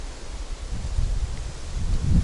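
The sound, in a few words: wind blowing through leaves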